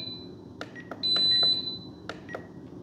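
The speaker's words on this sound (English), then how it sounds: "that was our charger that was beeping" A battery charger for a Blade mCX Anniversary Special Edition RC helicopter beeps, a series of short, high electronic chirps with one longer steady tone in the middle, heard close against a quiet room.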